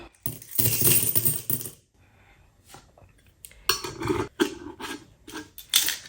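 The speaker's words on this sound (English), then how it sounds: "we have about a handful of coins. So let's add that to our jar." A handful of coins is dropped into a jar, giving loud metallic clinks and jingles in two bursts with a brief quieter pause between them, up close.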